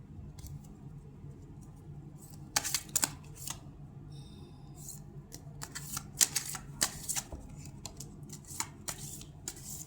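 Tarot cards are shuffled and drawn close by in a string of soft, papery flicks and snaps, some in quick clusters and some spaced out, over a low hum.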